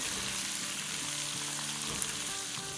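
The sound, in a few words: onions frying in a pan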